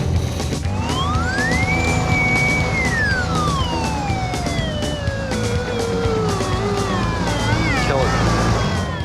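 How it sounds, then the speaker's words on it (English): A metal detector sweeping over a big iron target while crossing wild land at a Texas meteorite crater gives a loud, shrill, wavering whine that rises, holds, then slides downward, repeated with pitch bends under a steady background rumble. "A nice shrill whine means a big iron target."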